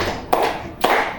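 A classroom group claps in unison: two sharp, close claps about half a second apart, each followed by a short decay, with quiet room tone between.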